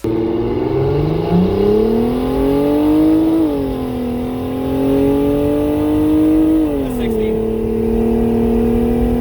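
A car with a turbocharged Mercedes M104 engine, running a poor, conservative ignition tune, accelerates hard. The loud engine note climbs steadily in pitch, dropping briefly at two gear changes.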